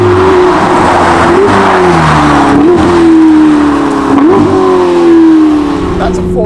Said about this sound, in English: That's a 4-litre twin-turbo V8 at the back.